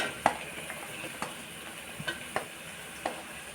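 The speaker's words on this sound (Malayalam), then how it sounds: "ആദ്യം ഇത്രയും നമുക്കൊന്ന് മിക്സ് ചെയ്യാം" Mixed vegetables (onion, green chili, carrot and potato) are stirred in a pan, with a few faint scraping taps from the utensil over a quiet, low sizzle. No voices are heard.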